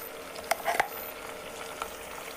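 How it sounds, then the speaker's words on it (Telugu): Chicken cooks in gravy with a soft, even bubbling hiss and a few faint pops and clicks, quiet throughout with no voices. "ఇలా చికెన్ ఉడుకుతుంది"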